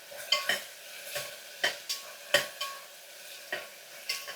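Stirring and frying ingredients for mente bath in a pan: about eight distinct scraping spoon strokes spaced unevenly over a steady background sizzle, close and moderately loud, with no talking.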